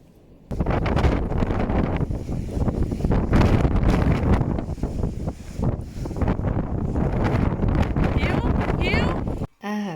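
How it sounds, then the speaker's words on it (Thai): Strong wind buffets an outdoor microphone on a street, a steady loud roar with gusting swells that runs for nearly the whole stretch before cutting off at the end. "วันนี้ลมแรงมาก"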